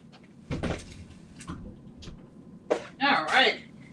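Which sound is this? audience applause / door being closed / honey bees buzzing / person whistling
door being closed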